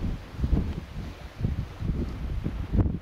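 Gusty wind buffets the microphone outdoors by the water during dapping fly fishing, coming in rough low rumbling bursts that swell and fade, with no talk.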